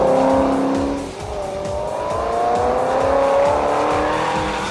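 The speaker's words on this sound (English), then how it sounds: "You literally point the car, turn the wheel, stab the throttle, and it just starts moving." An HSV GTSR W1 muscle car with a 636 hp engine, on sticky Pirelli tyres, is driven hard around a racetrack, its loud engine roar dipping at a gear change and then climbing steadily again, close and without talk.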